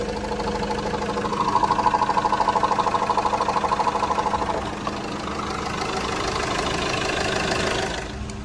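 A car engine idles during a pre-purchase inspection, running evenly with a steady, close, rhythmic mechanical pulse and hum that continues throughout with no talk over it.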